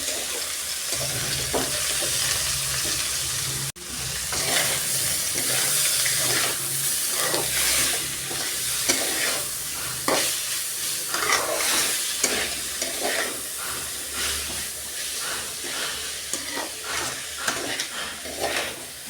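Red amaranth greens sizzle and crackle steadily in a hot pan, with repeated scraping and stirring strokes close by.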